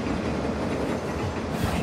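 Trains arriving in the mobile game Train Station 2, a steady rolling rumble with rhythmic wheel clatter, loud and continuous throughout.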